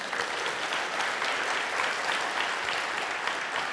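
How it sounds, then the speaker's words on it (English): A studio audience applauds steadily during a televised interview, a dense, even wash of many hands clapping at once that holds at a constant level from start to finish with no voices on top. "I'm grateful for your applause for her"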